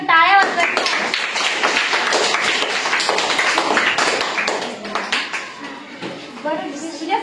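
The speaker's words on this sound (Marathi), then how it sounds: "याच्यासाठी परत एकदा टाळ्या वाजवायच्या" A class of schoolchildren at a village primary school quiz bursts into applause for a correct answer, many small hands clapping fast and unevenly for several seconds amid lively voices.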